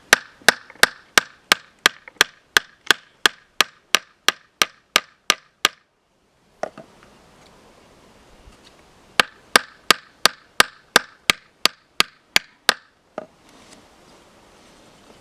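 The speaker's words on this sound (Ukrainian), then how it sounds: "Саме погано кончики кліпати." Rapid, evenly spaced metallic hammer strikes peening a stainless steel knife blade, about twenty-five blows, a pause with faint rustling, then another quick run of blows, close and loud.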